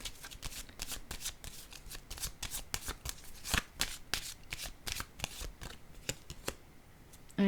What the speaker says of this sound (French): Je vais déposer une carte sur la carte du monde,